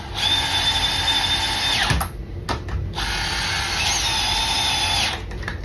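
A power drill drives a bolt in on a garage door roller being swapped from metal to nylon, two loud whining bursts with a short pause and a click between them, close by and without talk.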